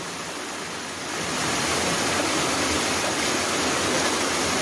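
Flowing river current rushes as a dense, steady broadband wash, a little softer in the first second and then swelling to a constant close roar with no voices.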